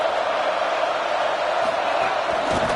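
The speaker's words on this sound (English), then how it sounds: "Now this home crowd making life difficult" Home crowd roaring at a UCLA vs Ohio State college football game, a steady, loud wall of cheering and whooping that holds throughout the stadium without letting up.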